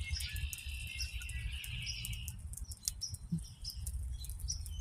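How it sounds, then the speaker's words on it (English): Birds chirp and tweet in quick bursts, back and forth, over a low rumbling background, with a few fluttery rustles. "It's crazy how them birds chirp back and forth."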